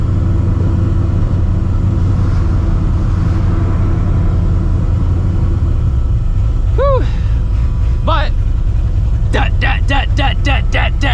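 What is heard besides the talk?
supercharged 2-valve Mustang GT engine rumble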